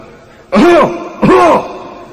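Two short, throaty coughs a moment apart, voiced like a person imitating a deliberate cough, loud and close.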